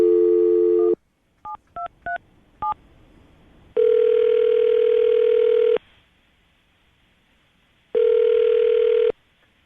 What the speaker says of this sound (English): I'm going to dial the phone number right now, see if we can get her on the phone